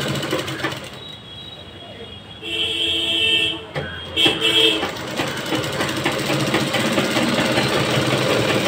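Sewing machine stitching the bottom hem of a salwar, running in a steady loud mechanical whir that pauses and restarts briefly before carrying on continuously near the mic.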